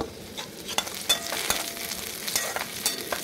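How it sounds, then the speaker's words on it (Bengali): Lentils stirred in a frying pan with green chilli, scraping and shuffling in an irregular rhythm over a light sizzle, close and fairly quiet, with no talking. "কলাইটাকে একটু নেড়ে নেব ভালোভাবে"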